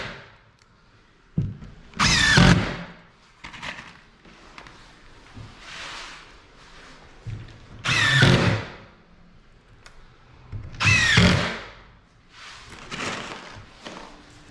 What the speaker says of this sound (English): and we add a screw to each one.